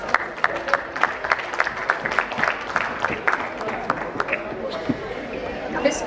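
Applause from an audience at a corporate summit panel felicitation, with distinct individual claps standing out over a low crowd murmur, steady and moderately close.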